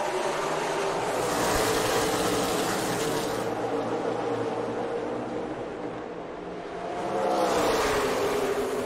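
NASCAR race cars at Kansas Speedway roar past in a continuous loud engine drone, swelling and easing as the pack sweeps by, with crowd and track ambience blended in.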